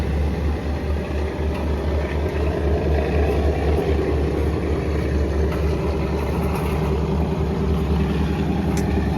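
A deep, steady train diesel engine drones continuously at close range at Saraburi railway station in Thailand, a heavy idling rumble with no speech.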